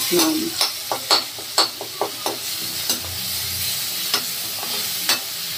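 Garlic and ginger fry in hot oil for a fish curry, giving a steady close sizzle broken by repeated sharp clinks and scrapes from a stirring spoon against the pan, with no talk.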